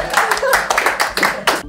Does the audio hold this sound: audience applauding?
yes